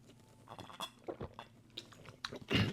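Rolled ranch-flavored Doritos chips crunched and chewed close up, a run of irregular crisp bites and mouth crunches at low volume with no talking.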